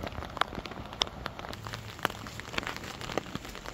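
Steady rain falls outdoors during a nature walk, a dense patter with sharp, close drops striking surfaces at irregular intervals.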